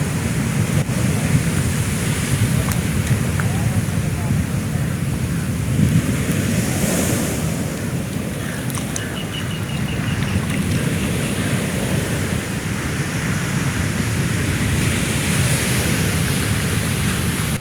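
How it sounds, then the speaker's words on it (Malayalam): Sea waves surge over a broken seawall near a stand of casuarina trees on a mined coastline, making a continuous heavy roar of surf mixed with buffeting wind noise. "ഉള്ളിലേക്ക് തിരമാല അടിച്ചു കയറി"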